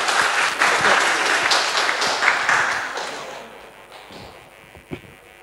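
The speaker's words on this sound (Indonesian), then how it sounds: "Berikan tepuk tangan untuk pemateri kita" Audience applause at a millennial NU cadre talk show, a dense wash of clapping that fills the hall for several seconds, then thins and fades toward the end with a few scattered final claps.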